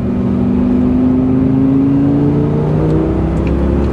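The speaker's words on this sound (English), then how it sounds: "Bump it up to about 60 miles an hour." A 2005 Lamborghini Gallardo accelerates steadily along a curving road toward about 60 mph, its engine drone rising gradually in pitch under a constant loud whir of road and tire noise heard from inside the car.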